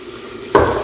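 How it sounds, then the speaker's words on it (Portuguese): Meat frying and sautéing in a home kitchen pan: quiet at first, then a loud sizzle bursts in about halfway through and keeps hissing steadily to the end. "Enquanto vai fritando ali a minha carne, refogando"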